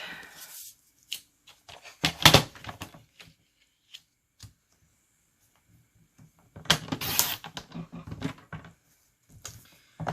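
Paper card stock is cut down to size for a card front, giving bursts of scraping, sliding trimmer strokes and crisp rustles separated by quiet pauses, close and fairly loud.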